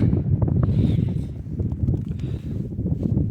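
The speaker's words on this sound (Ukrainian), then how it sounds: "Трохи вітер шумить" Gusty wind buffets the microphone with a steady low rumble and roar throughout, close and fairly loud, outdoors among forest work horses.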